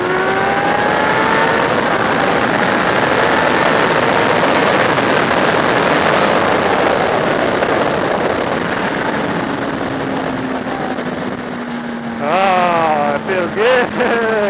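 Motorbike engine droning steadily and loudly throughout while riding outdoors on a pleasant day, with rising and falling revs and a louder throttle burst near the end.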